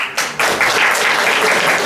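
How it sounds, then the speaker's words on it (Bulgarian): Applause for Daria Nedeva at a ball: a loud, dense burst of clapping from a crowd, steady and close for the whole moment. "Аплодисменти за Дария Недева."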